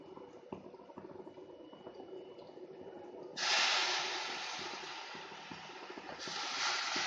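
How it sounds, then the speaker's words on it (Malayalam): Water is poured into sizzling fish curry masala for a Kerala-style kera meen curry: quiet stirring first, then a sudden loud, sustained hissing sizzle that keeps going, close and alone. "പൊടികളുടെ പച്ചമണം മാറുമ്പോഴേക്ക് നമുക്ക് വെള്ളം ഒഴിച്ചു കൊടുക്കാം."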